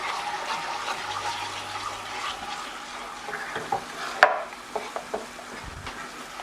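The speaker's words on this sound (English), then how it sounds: "There we go, we're now starting to get a bit of a sizzle." Coconut milk sizzles in a pan as a curry is stirred, a soft steady hiss with light scraping and a few sharp clinks of utensil against the pan near the end.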